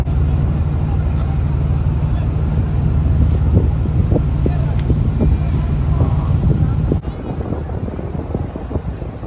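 A sailboat motors out of a crowded harbor at Rabat, Morocco, with a steady low engine drone and wind rumble throughout, then the hum drops slightly near the end; no talk.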